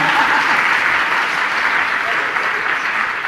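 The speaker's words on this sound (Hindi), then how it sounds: "मंत्रित एक बार तालियां तो बजा दो" Sustained applause from a seated religious discourse audience, a dense, even wash of many hands clapping at steady loudness throughout, with no pause.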